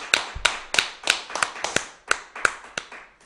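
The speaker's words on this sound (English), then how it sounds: "Let me get a round of applause" A small audience claps slowly for a talk-show style program, about ten distinct, evenly spaced sharp claps over a few seconds, close and fairly loud, with no voices.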